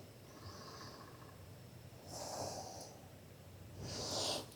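Deep yoga breaths taken outdoors, two slow airy exhalations rising and fading over a faint background hum, close and quiet with no talk.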